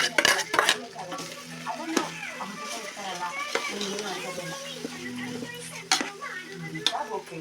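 Rice is added to a pot for chicken biryani and stirred with a metal spoon, producing repeated scraping clinks and soft sizzling, with sharp utensil knocks at irregular intervals, close and fairly quiet.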